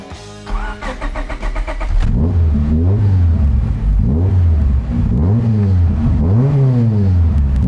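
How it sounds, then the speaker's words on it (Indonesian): A B-series car engine fitted with an Ogura single clutch and a long custom exhaust cranks and catches, then revs loudly and close by in several rising and falling bursts. "Yuk kita coba nyalain ya mesinnya ya."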